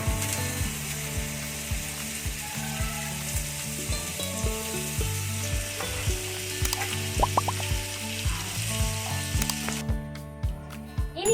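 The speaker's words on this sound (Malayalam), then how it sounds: "അടുത്തതായിട്ട് നമ്മൾ അതേ പാനിൽ തന്നെ കുറച്ച് ബട്ടർ ഇട്ട് കൊടുക്കാം" Butter melts in a hot frying pan, giving a steady crackling sizzle up close, accompanied by a regular, faint ticking rhythm and a few brief clinks near the end.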